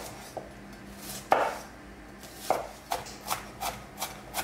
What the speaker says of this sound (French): Une fois que vous avez haché l'oignon